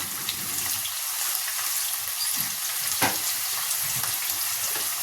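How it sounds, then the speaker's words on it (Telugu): Onion pieces fry in hot oil with a steady, close sizzle and crackle that holds throughout, broken by a single brief clink near the middle. No one speaks. "నూనె వేడయ్యాక ఉల్లిపాయ ముక్కలు వేసుకుందాం. ఉల్లిపాయ ముక్కలు ఎర్రగా వేగాలి."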